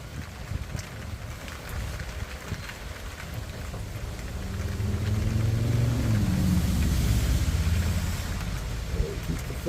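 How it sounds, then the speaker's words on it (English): Heavy rain pouring down on the Lower Laguna Madre, a constant hiss of drops over a low rumbling engine that grows louder midway, with wind mixed in. "it's pouring down rain out here"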